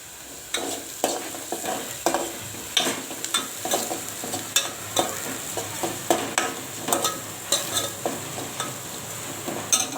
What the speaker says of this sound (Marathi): वाटण आपलं कच्चं असल्यामुळे थोडं जास्त वेळ तेलात फ्राय करायचं